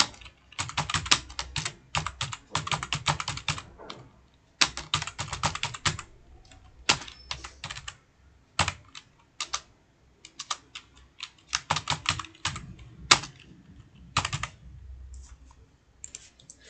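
Typing on a computer keyboard while writing a document in MS Word, with bursts of rapid clicking keystrokes separated by short pauses, close and fairly loud with no voices.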